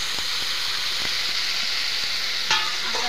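Food with salt and turmeric being stirred in a hot pan for a potato curry, a continuous close sizzle with faint scrapes of the spoon now and then.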